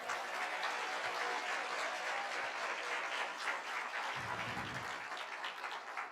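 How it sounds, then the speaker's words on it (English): Audience at a film discussion event clapping for volunteers and the event team, a sustained, fairly faint spread of many hands applauding evenly throughout. "So can you give them a hand clap?"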